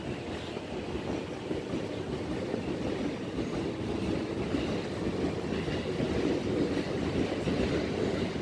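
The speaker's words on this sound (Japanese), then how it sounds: "東西線がここまで乗り入れてるんですよね。だからこの青い電車、青い車両がね" A blue Tokyo Metro Tozai Line train rumbles steadily through JR Mitaka Station, a continuous loud roar of wheels and motors with faint rail clatter, no voices.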